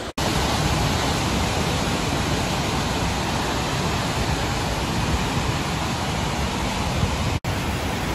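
A continuous, loud roar of rushing water crashing down, broad and unbroken, with no voices.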